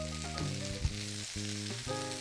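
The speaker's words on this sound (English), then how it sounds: "And these are all being sauteed in some canola oil or vegetable oil with some sesame oil added" Baby bok choy and other vegetables sauté in canola oil with a little sesame oil for a red Thai curry, a soft steady sizzle heard faintly beneath a louder tonal background.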